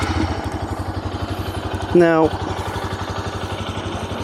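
Honda Grom motorcycle engine cranking briefly, then catching and settling into a steady, close, throbbing idle, with a short spoken word at the start.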